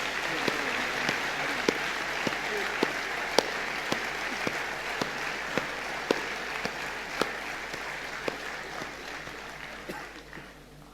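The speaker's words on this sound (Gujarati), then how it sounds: "અંકિત માટે પુષ્કળ તાળીઓ." Steady audience applause rings out at an award ceremony, with dense continuous clapping and a few sharper individual claps standing out, sustained for the whole stretch before tapering slightly at the end.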